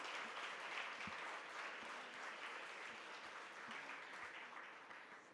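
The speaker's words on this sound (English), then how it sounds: "A huge round of applause, audience." Audience at a women chartered accountants' conference gives a sustained round of applause, a dense, even wash of many hands clapping that holds steady for several seconds before tapering slightly at the end.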